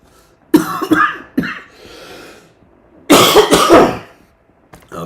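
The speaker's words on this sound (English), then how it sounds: "I've still got that cough" Two bursts of harsh coughing, close and loud, with a soft breathy rasp between them and a faint trailing cough at the end.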